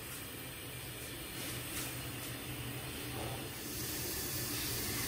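A pressure cooker's spinning weight whistle hisses steam while aloo keema cooks; a continuous loud hiss swells stronger partway through and stays steady, with no talking.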